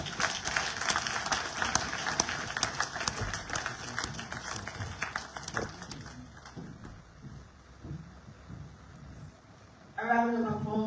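An audience at a launch event for an African uterine health fund at the New Brookfield Hotel claps in dense applause that thins and fades over several seconds, followed by a speaking voice.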